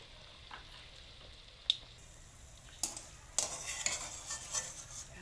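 Golden fried egg pakoras lifted from hot oil, with faint sizzling and a few sharp metal clinks of a utensil against the pan, growing busier toward the end.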